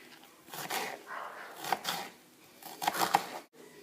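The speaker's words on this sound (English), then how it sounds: "you can hear my dogs barking." A couple of short dog barks, somewhat distant, come between quiet clattering noises in a kitchen.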